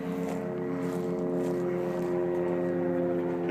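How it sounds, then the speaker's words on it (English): A helicopter flies overhead at a distance, a steady droning rotor hum holding level and fairly faint throughout on a rural property, with no voices. "And a helicopter coming."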